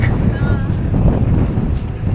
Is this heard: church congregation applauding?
no